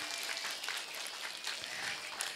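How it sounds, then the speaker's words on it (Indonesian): Applause for students in white hijabs at an Islamic religious gathering in Pemalang, Indonesia: a steady, dense crowd clapping that fills the whole stretch at moderate loudness, with no voice over it. "tepuk tangan dulu dong buat santri utul ilma"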